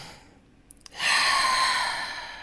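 A single deep breath during a guided breathing exercise, a soft pause followed by a long, airy exhale heard up close and alone.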